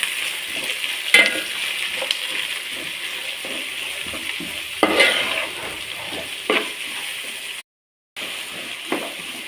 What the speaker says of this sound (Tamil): கறிவேப்பிலை போடணும் வெங்காயம் போட்டு நல்லா வெங்காயம் வதக்கும் வர நல்லா கிளறணும்